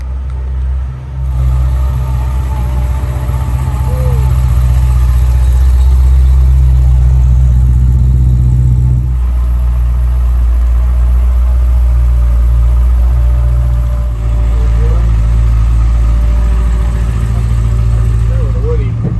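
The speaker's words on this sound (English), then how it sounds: "my dad's driving this thing now" A big muscle car engine rumbles at idle with a deep, heavy low throb, steady and close, while faint voices come and go underneath.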